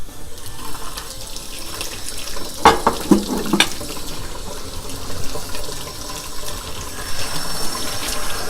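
Cooler tap water runs steadily into a bath holding sealed jars of raw goat yogurt, a continuous close splashing flow broken by a few brief knocks partway through.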